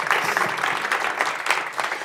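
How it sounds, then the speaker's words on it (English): A room full of people at a facilitation workshop claps in a brief, lively round of applause, close and steady for about two seconds. "Give a round of applause."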